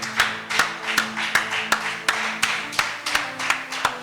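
A church congregation claps hands in acclaim of the Lord, a steady rhythmic beat of about ten claps, clear and even, with no talk over it.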